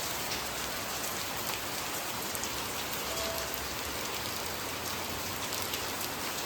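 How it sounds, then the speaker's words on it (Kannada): Heavy rain pours steadily in a village, a dense, even hiss of drops drumming on surfaces that stays loud and close throughout, with no voices. "ನೋಡಿ ಜೋರು ಮಳೆ ಬರ್ತಿದೆ."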